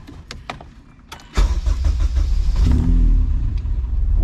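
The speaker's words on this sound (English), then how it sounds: "Lucy, I'm gonna turn the car on" A Honda Civic (1988–91 EF body) engine is started close by: a few light clicks and a brief crank, then the engine catches with a loud burst and settles into a rough, steady idle.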